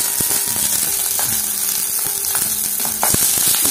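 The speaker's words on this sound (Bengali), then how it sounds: "তেলটা গরম হয়ে গেলে এবার এই পাতুরিগুলো আমি কড়াই আস্তে আস্তে দিয়ে দেবো" Mocha paturi parcels, vegetarian banana-flower parcels, fry in hot oil in a kadai, giving a steady close bubbling sizzle with small crackles and pops throughout.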